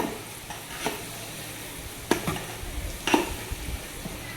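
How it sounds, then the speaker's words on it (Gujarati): Hot oil in a covered pan, left from tempering for a sour mango pickle, keeps up a faint, low sizzle, broken by a few sharp clinks and taps of metal nearby. "હજી તેલમાં તરતર તરતર થાય છે."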